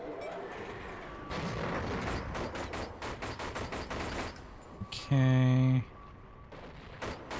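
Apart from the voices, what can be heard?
gunfire in 007 Agent Under Fire video game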